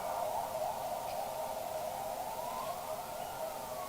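Sirens of passing ambulances during an outdoor presidential address, a steady wailing tone holding loud and continuous throughout, slightly rising near the end, with no talk over it.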